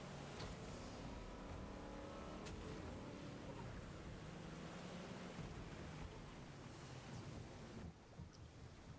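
A vehicle driving in Fortnite, a steady low engine rumble mixed with broad wind-like rushing noise that holds evenly throughout at a faint level.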